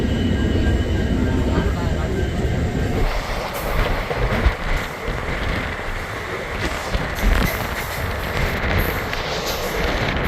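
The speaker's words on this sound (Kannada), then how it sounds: "ಕರೆಕ್ಟಾಗಿ ಎಕ್ಸಾಕ್ಟ್ ಟೈಮ್ಗೆ ಟ್ರೈನನ್ನು ಸ್ಟಾರ್ಟ್ ಆಗೋಯ್ತು ನೋಡಿ" An Indian Railways general coach on a Mysuru to Mantralayam run starts moving at Kengeri, with a steady, close rumble of the moving train, intermittent clanks and voices underneath.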